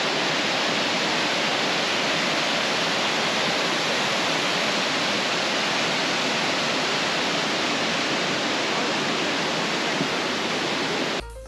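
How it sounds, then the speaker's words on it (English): Bridal Falls, a two-step waterfall in the Pacific Northwest, roars in a steady, dense rush of falling water, loud and unbroken throughout with no voices. "And this is Bridal Falls."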